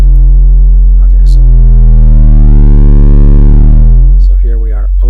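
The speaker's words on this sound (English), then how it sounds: "here we are overdriving the feedback loop, which actually self-noises" A loud, droning electronic tone from an overdriven, self-oscillating feedback loop, rising and falling in pitch like a siren, thick with harmonics and squealing, cutting off into sputtering bursts at the end.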